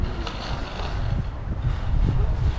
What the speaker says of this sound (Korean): 바람 분다.